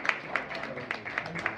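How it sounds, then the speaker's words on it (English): Audience clapping after a talk at a historical society general meeting, a short stretch of scattered, fairly quiet claps with no one speaking over it. "Let's give him another round of applause."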